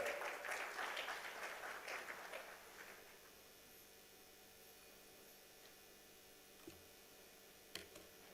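Applause welcoming speakers at a corporate program event, a burst of clapping in the first few seconds that quickly fades into quiet room tone, with a couple of faint clicks later.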